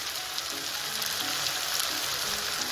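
Spices fry in oil for a Punjabi-style rajma masala, giving a steady close crackling sizzle like rain on a surface, constant throughout with faint scraping underneath.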